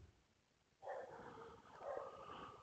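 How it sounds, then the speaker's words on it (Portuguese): A house dog barks somewhere off in the room, a couple of muffled, sustained barks and yelps at low level with no talking over them. "meu cachorro tá latindo"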